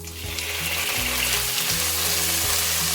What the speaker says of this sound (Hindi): थोड़ा सा सौते करेंगे 1 मिनट के लिए गार्लिक को।